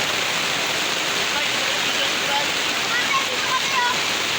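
Heavy rain and flowing floodwater in a flooded neighborhood make a dense, unbroken rushing hiss, steady and close throughout.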